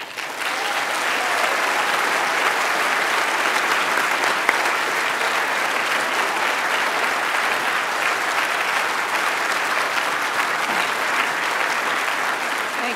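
Steady, dense applause from a lecture audience welcoming author Linda McQuaig to the stage, loud and sustained for the whole stretch with no voices over it.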